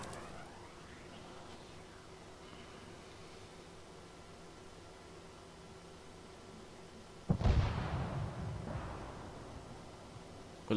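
A Javelin missile fired at an armored vehicle in a military video game, a quiet background hum broken by a sudden sharp launch blast and a rushing roar that fades over a couple of seconds, then another sharp bang at the end.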